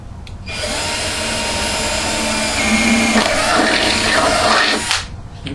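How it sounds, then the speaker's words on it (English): A power drill whirs loudly and steadily for several seconds, pitch shifting slightly as it bores through material, then stops abruptly. "I'm going to go ahead and drill this hole."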